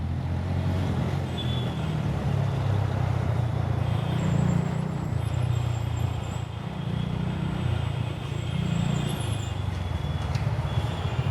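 A large bus rumbling past in heavy Uttam Nagar traffic, heard from a motorcycle as a loud, continuous low engine drone that swells and eases, with general road noise and no talk.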